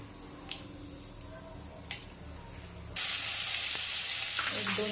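Cumin and mustard seeds hit hot oil for upma and burst into a loud, steady sizzle that starts suddenly partway through, after a few faint ticks and clicks.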